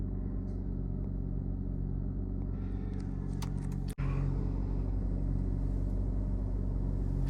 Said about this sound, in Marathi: मी आता गाडी चालवणार आहे.